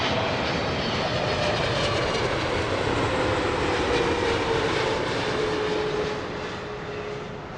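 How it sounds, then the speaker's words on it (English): A British Airways Boeing 777-300 landing at Heathrow makes a steady, loud jet roar, a broad rushing drone with a slowly falling engine whine that holds for several seconds, then eases slightly at the end. No voices. "It's British Airways flight 280, this one a 777-300 inbound from LAX."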